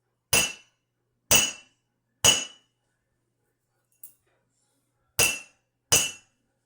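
A hammer strikes a small sample of iron in a classroom experiment: five sharp, ringing metallic blows at uneven intervals, plus one much fainter tap between them, each followed by silence.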